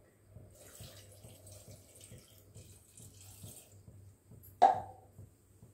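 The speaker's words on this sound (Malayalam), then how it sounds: "ഇനി ഇതിനകത്ത് കുറച്ച് വെള്ളം ഒഴിക്കാം." Water runs steadily from a kitchen tap while being poured over chopped vegetables for a snake gourd sambar, ending in a short splash, close and moderately quiet with no talking.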